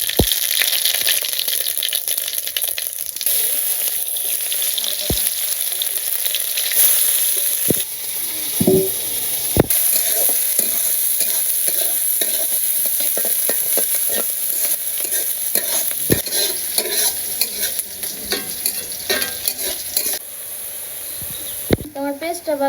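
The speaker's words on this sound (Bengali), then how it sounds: "কড়াইতে তেল দিয়ে দিয়েছি গরম হয়ে গেছিলো তেজপাতা দিয়ে দিচ্ছি জিরা দিয়ে দিই" Steady, loud sizzling of bay leaves and cumin seeds frying in hot oil in a wok fills the whole stretch, with occasional sharp clinks and a brief voice near the end.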